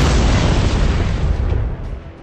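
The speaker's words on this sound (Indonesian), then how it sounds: "Gao pun dengan cepat menjauh dari ranjau itu sebelum meledak." A landmine detonates in a film scene, setting off a huge, close boom that roars at full loudness and then slowly rumbles away, with no voices heard.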